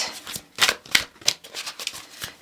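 Oracle cards being shuffled by hand, a soft papery riffle and slide repeated in uneven bursts, close up and quiet, with no voice over it.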